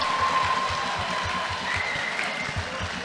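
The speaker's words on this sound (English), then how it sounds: "How about a round of applause for these girls?" Crowd applause and cheering at an MMA event after a women's fight, a dense, continuous wash of clapping and crowd noise filling an arena, sustained and even throughout.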